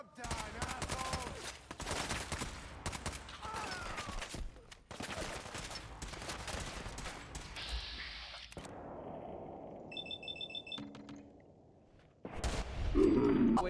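Rapid automatic gunfire fills a fight in the video game Fallout 4, with dense bursts of shots in several stretches, broken by quieter gaps, game effects, and short grunts from characters.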